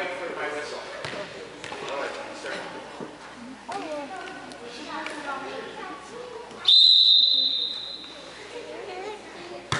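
A referee's whistle at a school volleyball game gives one loud, sustained shrill blast that cuts through the gym's echoing crowd chatter, cheering and ball bounces.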